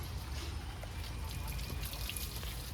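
Water poured over a person's feet while washing them, a close, continuous splashing trickle with faint dripping, steady throughout and without talking.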